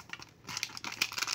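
A plastic sachet of yeast crinkles and rustles as it is emptied out in a home kitchen, making short close-up crackling bursts that grow busier toward the end.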